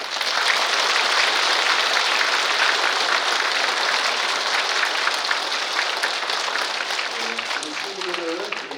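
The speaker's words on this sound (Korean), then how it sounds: "교우분들께서 격려의 박수 부탁드립니다" A church congregation at Sunday Mass applauds the altar servers with steady, dense clapping that carries on for most of the time, then thins near the end as a voice begins speaking.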